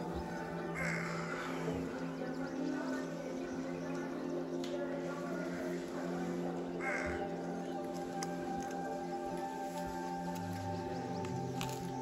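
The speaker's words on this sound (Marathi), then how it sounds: "वेगळाच पक्षी बघायला मिळाला." A long-tailed bird calls on a mountain trek in Uttarakhand: harsh, crow-like cries at moderate distance over a steady outdoor hum and rustle.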